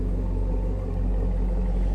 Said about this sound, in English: Nice little throaty rumble.